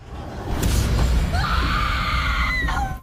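A girl screams hysterically on a loud, drawn-out, rising cry lasting nearly three seconds, set over a dense, rumbling dramatic background.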